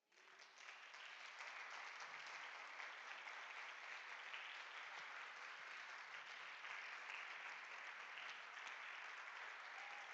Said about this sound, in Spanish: ¿No le daríamos un aplauso a él?